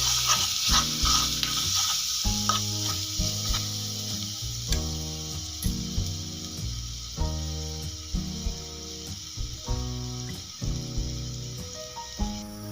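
A steady hiss of garlic frying in oil in a pan for garlic chutney runs throughout, partly under louder background music with a bouncing beat.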